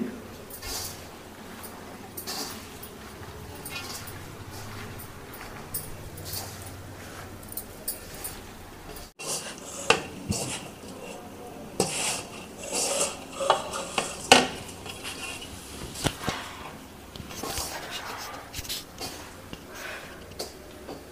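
Hot cooked broad beans are mixed with cumin and spices in a dish while making Telangana-style bean dumplings. Soft scraping and light clinks of a utensil repeat steadily, growing busier toward the end.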